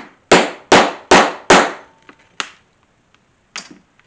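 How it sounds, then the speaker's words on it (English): A hand punch is struck through scrap leather to make 1/8 inch rivet holes: four sharp, loud knocks in steady rhythm, then a few fainter taps, with no talking. "punch my 1/8 inch holes for my rivets"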